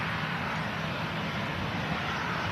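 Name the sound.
police helicopter passing in front of airport tower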